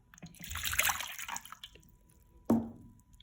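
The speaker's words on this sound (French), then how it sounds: "Dans le pichet, versez l'eau" Water poured into a pitcher for choux pastry dough, a brief splashing gush followed by a second short splash and drip, close and fairly quiet.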